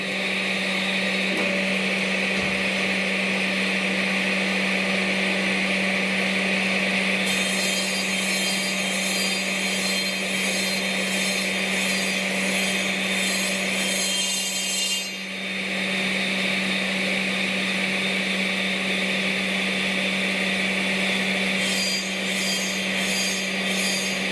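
Steady, continuous grinding of a large, bent, tapered metal shaft with a constant motor hum and a harsh high whine that shifts texture partway through, with no talking.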